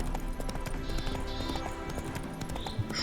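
Roach, the horse in The Witcher 3: Wild Hunt, trots along with a quick steady clip-clop of hooves under ambient game sound, close and fairly loud, no talk.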